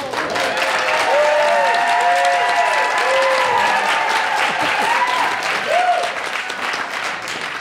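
Sustained audience applause fills a crowded room during a farmers market feud game show, loud and steady throughout, with a few voices and whoops rising over the clapping.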